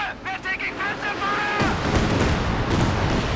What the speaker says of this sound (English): Following up with another barrage.